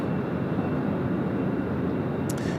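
An American Airlines airliner rolling for takeoff on runway 34 left at Sydney Airport, heard as a steady, loud broadband engine roar that holds evenly throughout with no talk.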